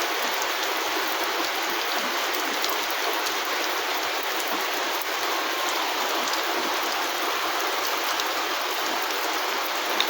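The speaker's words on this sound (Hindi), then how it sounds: "बताओ, आज पहली बार बारिश होती है वैसे।" The first rain of the season falls steadily, a dense, even hiss of drops pattering on surfaces close by, unbroken for the whole stretch with no voices.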